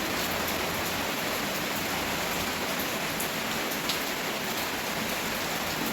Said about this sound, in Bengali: এই দেখো বৃষ্টি